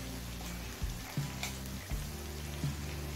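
Ginger with cumin, coriander and Kashmiri chilli powder frying in oil for a vegetarian Gobindobhog rice khichuri makes a soft, steady sizzle, broken by a few quiet knocks of stirring, with no voices.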